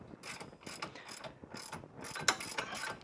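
A wrench on a rear brake bolt of a Cadillac CTS gives a series of close metallic ratcheting clicks in irregular bursts, with one sharper clack near the end.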